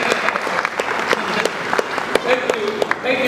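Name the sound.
audience clapping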